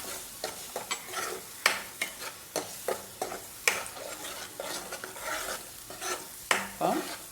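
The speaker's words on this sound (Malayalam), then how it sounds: "എന്നിട്ട് ഒന്ന് മിക്സ് ചെയ്തിട്ട്" Cashew, onion and green chili masala paste for malai chicken handi frying in a pan, stirred with steady rhythmic spoon scrapes about every half second over a soft continuous sizzle, close up and without talking.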